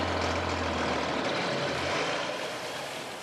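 A 3,000-gallon tanker truck hauling liquid manure gives off a loud, steady engine rumble and broadband roar that eases slightly toward the end, with no voices.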